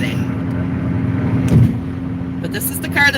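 A car cruising along with its moonroof open, heard from the passenger seat as a steady low engine and road drone with a brief bump partway through.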